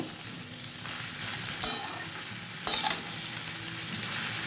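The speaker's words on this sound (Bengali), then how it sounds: "কাঁচা আনাজগুলোকে ভালো করে কষাবো" Raw vegetables being sautéed in a pan for a katla fish-head ghonto chhechra, with a steady sizzle and a few louder stirring scrapes at intervals, close by with no talking.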